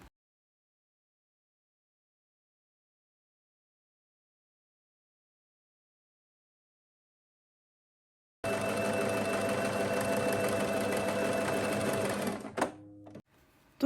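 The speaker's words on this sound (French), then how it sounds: "on va venir coudre tout du long ici à 1 cm de marge de couture" A sewing machine runs a steady, continuous stitch along the length of scrunchie fabric at a 1 cm seam allowance, starting abruptly after a long silence, then slowing and stopping with a few final uneven bursts.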